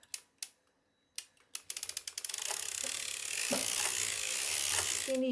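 A circular sock machine is cranked to knit yarn into a tube: a few isolated clicks, then a quickening run of ratcheting mechanical clatter that settles into a steady, dense whirring clack, close and moderately loud.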